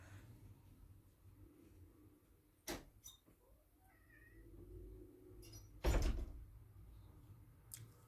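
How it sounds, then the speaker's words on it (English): A cat meows a few times amid quiet room noise, with a couple of sharp door knocks or thumps, one louder thump near the end. "the cat wanted to get out"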